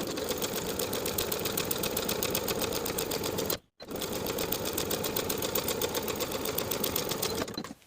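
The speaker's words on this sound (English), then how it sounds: "I'll pin both of my side seams and sew with a 3/8 inch seam allowance" A sewing machine runs a steady, fast chatter of needle strokes while stitching a cardigan's side seams at 3/8 inch, pausing briefly midway before resuming at the same even pace; close and loud, no talk.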